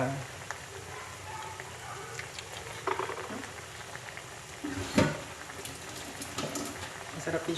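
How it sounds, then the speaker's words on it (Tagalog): A pan of sarsiado sauce with oyster sauce comes to a boil, with a soft, steady bubbling and sizzling hiss close by and a few sharper spatters and clinks scattered through it. "Pakuluin lang natin."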